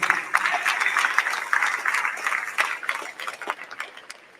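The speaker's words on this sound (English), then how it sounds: "So a big round of applause for the coaches" A crowd at a Robinson High School signing day applauds the coaches, a lively spread of clapping with some sharper individual claps that tapers off near the end.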